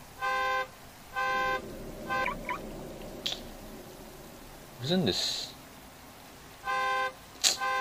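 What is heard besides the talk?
car alarm noise from a car in Manhunt 2 video game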